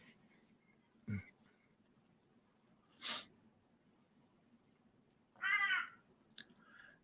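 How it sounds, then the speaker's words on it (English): Three separate caws from a crow, spaced a couple of seconds apart, over a quiet background hum. "Bloody crow."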